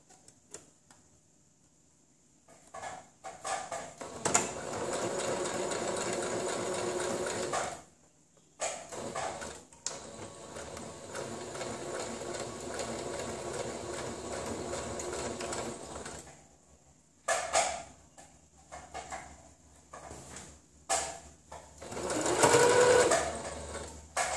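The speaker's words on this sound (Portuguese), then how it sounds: "Vou passar a costura." A sewing machine stitches a fabric face mask with a headband, running in two long steady bursts and then several shorter ones, loud and close with brief pauses between.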